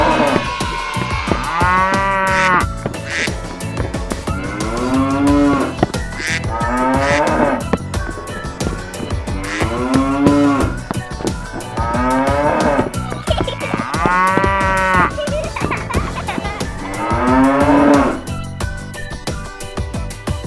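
Cattle mooing in a farm-animal setting, a series of loud, drawn-out lowing calls repeating every few seconds across the span, close and clear with no talk.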